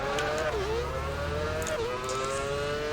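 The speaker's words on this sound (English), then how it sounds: "spam the downshifts into the turn 3 hairpin" An F1 car from the 2006 season in a racing game at Bahrain, its high-pitched engine howling steadily, then dipping sharply twice as it downshifts hard into a hairpin, loud and continuous.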